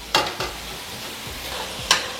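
Mutton sautéing in oil in a pan, a steady close sizzle with a few sharp stirring scrapes near the start and end.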